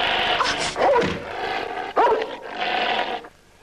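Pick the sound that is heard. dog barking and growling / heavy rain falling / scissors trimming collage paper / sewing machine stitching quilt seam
dog barking and growling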